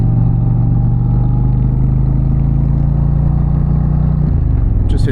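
An Indian Challenger motorcycle's exhaust drones steadily and loud while the bike is ridden, a continuous low engine rumble with a slight shift near the end.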